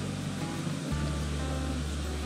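River rushing beneath a bridge near the Rutor waterfalls on a mountain hike, a steady loud broadband roar of flowing water with a low rumble, continuous throughout with no voices.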